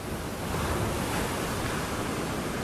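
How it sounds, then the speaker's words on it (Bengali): Sea waves on a beach on a very windy day, a loud, continuous roar of surf mixed with wind rushing over the microphone, steady with no pauses. "ভালোই ঢেউ রয়েছে"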